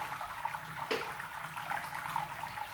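Wort draining from a Klarstein Brauheld Pro 45 brewing kettle, a steady close hiss of running liquid with a brief louder splash near the start, continuous throughout.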